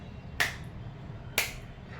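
Two sharp, loud hand claps done as an exercise, spaced about a second apart, each standing alone against a low steady background hum.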